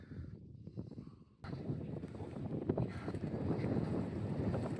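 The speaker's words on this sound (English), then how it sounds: "It's a little bit windy." Wind buffets a microphone with low rumbling gusts along Hadrian's Wall, quieter at first then suddenly stronger and steady, a rough roar that persists to the end.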